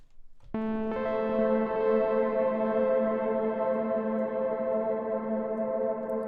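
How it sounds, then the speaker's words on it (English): A sustained synth chord rings out with ping-pong delay repeats bouncing behind it, blending into a long, smooth reverb tail. "So you hear the delay, the bounces, they are in there"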